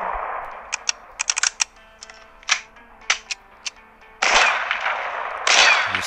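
Shotgun firing in the video game Dead Zed: a quick run of sharp, close blasts, some in tight pairs, followed by two longer, louder roaring bursts, with no talk.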